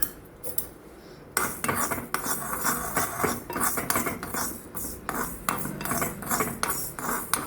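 Mustard and fenugreek seeds dry roasting in a pan for garlic pickle, with a metal spoon scraping and clinking against the pan in steady, close strokes and no talk.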